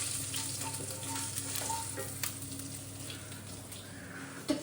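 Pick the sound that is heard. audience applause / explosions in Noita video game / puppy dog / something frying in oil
something frying in oil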